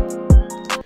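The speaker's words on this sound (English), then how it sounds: "When you first add the plugin Overdrive onto your kick, it's gonna sound like this." A kick drum run through Logic Pro X's Overdrive plugin lands as one loud, booming hit with a falling low thump. It sits within a short beat that has hi-hat ticks and a sustained synth chord.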